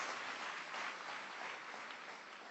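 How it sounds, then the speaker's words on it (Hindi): An audience at a motivational Success Day event in Mumbai applauds, a faint, steady patter of clapping sustained for a couple of seconds with no voices. "मैं चाहता हूं उनके लिए एक बार जोरदार तालियां हो।"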